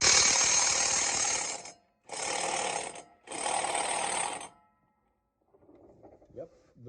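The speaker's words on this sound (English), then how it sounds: "we're going to be trying to remove the flywheel bolts, which happen to be Allen head bolts." Power tool working on Allen head flywheel bolts of a 2016 GMC Duramax 3500 diesel, three loud sustained mechanical bursts with brief gaps, then quieter clatter and handling noise.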